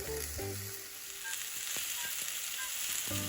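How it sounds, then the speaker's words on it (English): A Mississippi swamp roast searing in a hot pan, a steady close sizzle and fry crackle with a few soft clinks, no talking. "you can see it's getting a nice little sear on this side now"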